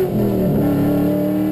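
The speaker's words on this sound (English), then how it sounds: "hearing all these V8s and stuff" V8 drift car engines drone at a raceway during a national drifting championship round, a loud sustained engine tone holding steady throughout.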